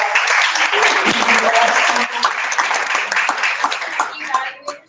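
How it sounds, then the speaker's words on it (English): A room of attendees at a Toastmasters meeting for young professional entrepreneurs claps together, thick sustained applause that tapers off and thins out at the very end. "Give you a round of applause."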